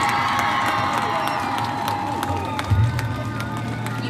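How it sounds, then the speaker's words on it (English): A crowd at a 4-H goat show wether session cheers and applauds, with whoops and scattered claps over a host's voice, swelling briefly near the end. "another round of applause"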